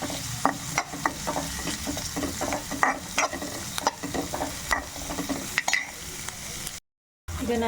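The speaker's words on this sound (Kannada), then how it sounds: "ಎಣ್ಣೆ ಕಾದ್ಮೇಲೆ ಇದಕ್ಕೆ ನಾನೇನು ಒಂದು ಈರುಳ್ಳಿನ ಉದ್ದಿದಾಗಿ ಇಟ್ಕೊಂಡಿದ್ದೆ ಅದನ್ನು ಇದಕ್ಕೆ ಸೇರಿಸ್ಕೊಂಡಿದ್ದೀನಿ" Sliced onions fry in hot oil in a pan for a mutton fry, giving a steady sizzle broken by repeated clicks and scrapes of stirring.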